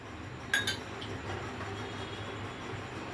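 A spoon clinks once or twice against a pan as garlic ginger paste goes in for a mushroom masala, a brief bright tap over a steady low background hum.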